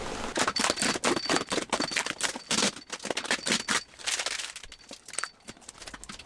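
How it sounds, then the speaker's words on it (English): A fine grade Scotch Brite pad scuffing a BMW E36 windscreen, quick rhythmic rasping strokes in close bursts, fast and regular at first, then slower and more scattered, no talking. "we're going to give it a scuff and a clean now, get it ready"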